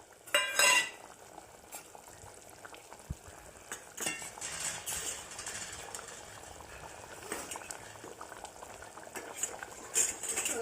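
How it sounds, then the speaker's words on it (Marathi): A pot of mutton curry bubbling and simmering on a gas stove over a medium flame, steady low boiling with a few clinks and stirring noises, close by, no talking. "ही आपली मटई शिजायला मटणाचा रस्सा शिजायला बघा मिडियम गॅसवरती ठेवला आहे"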